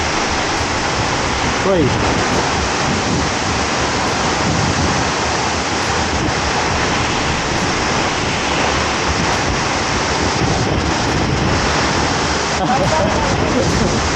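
Tiered waterfall at Lubuk Hitam in Padang, a steady, loud broadband rush of falling water that fills the whole stretch without pause, with brief exclamations from people nearby.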